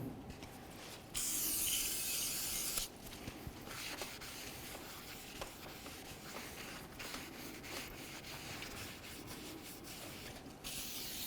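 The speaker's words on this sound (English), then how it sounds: "So next we're going to clean the braking surface on the rotor." Brake cleaner sprayed onto the braking surface of a rear brake rotor on a 2014-2017 Infiniti QX50, a loud hiss at first, then quieter rubbing and small handling clicks alone.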